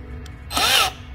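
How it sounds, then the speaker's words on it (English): A power drill whirs briefly, rising in pitch as it drives a self-tapping screw into a Genesis G70 side skirt, about a third of a second of motor noise in a quiet room. "using again self-tapping screw and a power drill."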